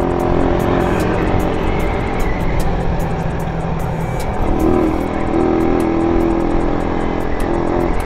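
A motorcycle runs with a Koso 30mm carburetor after needle and idle jet tuning. The engine drones loud and steady throughout, without talk, and a slight rise in pitch comes partway through.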